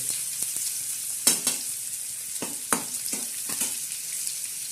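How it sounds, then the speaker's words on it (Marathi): Chopped onion sizzles in hot oil for a sev bhaji curry, a steady close hiss broken by a few sharp scrapes and clicks from stirring, with no talk. "आपण कांदा टाकलाय आता कांदा टाकलाय आपण हा कांदा बी कसा तर तर तर तर होतो"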